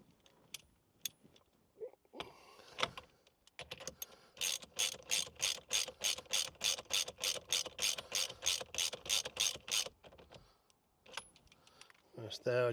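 A ratchet tightens a steering wheel bolt on a 2020 Ford Transit Custom with a regular run of about twenty loud, close clicks, preceded and followed by short handling noises and a brief voice.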